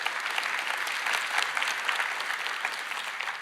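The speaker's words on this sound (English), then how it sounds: "A round of applause to our creator team for building this amazing product." A crowd applauds steadily throughout, dense clapping at moderate volume with no voices standing out.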